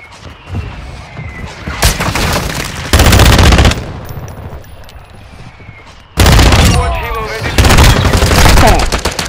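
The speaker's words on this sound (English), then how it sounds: "Our mortar strike." Heavy booming mortar impacts and sustained machine-gun fire from a video game battle, loud bursts arriving in blocks with brief quieter gaps between.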